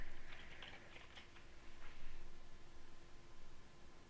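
Quick keystrokes patter on a computer keyboard, faint and brief over a steady hiss of background noise, with no voice.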